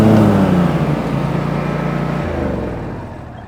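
A lawn tractor engine runs at full throttle with the mower deck engaged, a loud, close, steady drone whose pitch drops slightly partway through and keeps going without speech.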